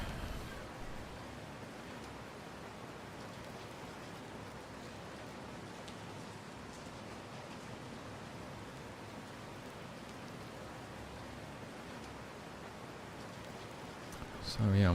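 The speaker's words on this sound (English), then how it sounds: "Help this guy out. He's out in the rain." Rain falling in the GodSIM video game, a steady, even wash of rain noise running unchanged for the whole stretch before a brief louder sound at the very end.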